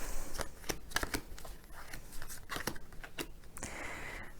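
Tarot cards are handled and laid out for a reading: close papery flicks and shuffling riffles in quick, uneven bursts, ending in a longer sliding rustle, with no talking.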